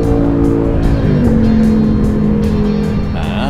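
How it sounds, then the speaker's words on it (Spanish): A modern motorcycle whose chain has no tensioner idles loudly close to the microphone, a dense rough engine drone with a fluctuating pitch and a slight rise in revs near the end. "Ah, cuánto ruido hace tu moto"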